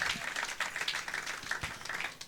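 Congregation clapping in a church, a steady dense patter of many hands kept up through the whole stretch at moderate level, with no voices over it.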